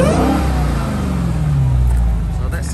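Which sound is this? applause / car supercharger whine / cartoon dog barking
car supercharger whine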